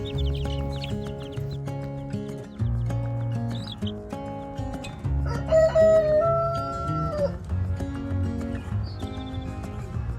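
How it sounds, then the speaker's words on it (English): Bantam chickens, including silkies, cluck and call almost continuously at close range, their pitched squawks and chirps rising and overlapping with one another and staying loud and busy throughout. "they're 2 of the bantam chickens that I got"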